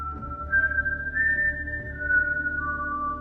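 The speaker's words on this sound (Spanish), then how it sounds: "Desde afuera se oyó un silbido." A steady, tuneful whistle carries on for several seconds, fairly clear against a low background hum, its pitch shifting slightly between notes.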